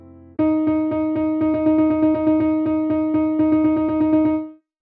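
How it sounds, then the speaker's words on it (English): A rapid run of evenly spaced synthesized pitched notes, eight to a beat as 32nd-note tuplets, plays steadily and clearly with no talking, then stops abruptly. "8 notes within a beat are just 32nd notes."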